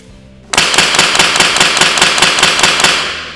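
A Specna Arms HPA airsoft replica fires BBs in a sharp, loud, rapid string of about a dozen evenly spaced shots, close up and starting abruptly.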